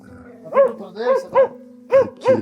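A dog barks five times at close range, deep and loud, in an uneven rhythm with short gaps between barks.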